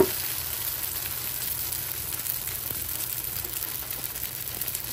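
Thick dosa batter sizzles on a hot pan, a steady, moderately loud hiss with faint crackle, holding evenly throughout with no talk.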